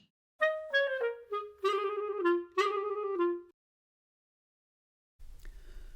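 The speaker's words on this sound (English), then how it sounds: "Now here is the sound of a clarinet." A clarinet plays a short run of clear, sustained notes, stepping down and back up, then stops; a brief rustling noise follows after a pause.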